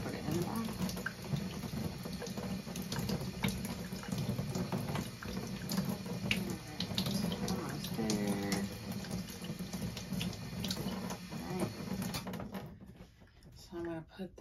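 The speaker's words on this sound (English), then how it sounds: "I'm going to rinse it to get the baking soda off so that it doesn't start neutralizing things" Tap water runs steadily while a jewelry electroforming part is rinsed to wash off baking soda, a continuous hiss and splash under talking that fades near the end.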